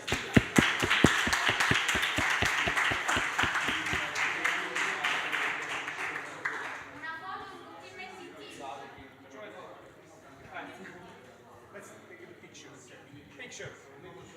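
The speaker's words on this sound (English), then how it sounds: "I would like to give you one last big applause." Near the close of an ocean data event, a small audience claps, starting with a few loud, sharp claps in an even rhythm that thin out after about six seconds, followed by scattered chatter and movement.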